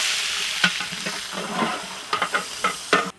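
Onions frying in oil in a pan while a chicken yakhni pulao is cooked, with a steady sizzle under a series of sharp stirring scrapes and clacks.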